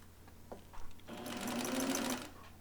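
A sewing machine stitches a blouse seam in a steady, buzzing run of about a second after a few quiet handling sounds, close and fairly soft.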